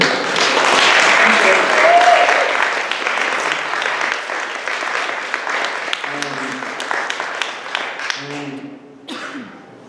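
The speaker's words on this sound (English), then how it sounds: "please give a round of applause for our contest winner" A crowd at a college launch party applauds a contest winner, loud and dense at first, then thinning into scattered claps as a person begins speaking near the end.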